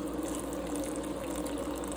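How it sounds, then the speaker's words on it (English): Boiling water poured steadily onto couscous, a continuous close liquid pour with a low rushing tone and no pauses. "and pour a liberal amount of water"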